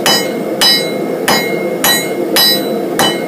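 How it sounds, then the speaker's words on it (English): Heavy hammer blows strike hot metal being forged into a leaf key chain, six times at a steady, slow rhythm, each impact ringing with a bright metallic clang. "I'm using more of the hammer's weight"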